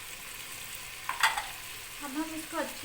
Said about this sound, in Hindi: अब हम इसमें कीमा डालेंगे। मसाला हमारा रेडी हो चुका है।